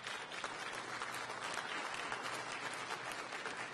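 A crowd at a mayoral announcement event in the District of Columbia applauds, a dense, even wash of clapping from many hands that holds steady throughout at moderate distance.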